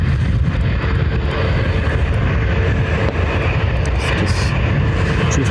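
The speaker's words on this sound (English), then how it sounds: "It's this 320 Neo off the Heathrow" An Airbus A320neo airliner arriving from Heathrow at Dublin Airport gives a loud, steady, broadband engine roar that stays constant throughout, with no voices.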